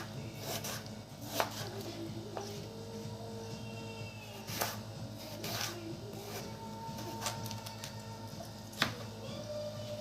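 A knife chops vegetables on a board while preparing mor kuzhambu at home. Irregular crisp knocks and cuts repeat over a low steady hum, with a few sharper strokes standing out and no talk.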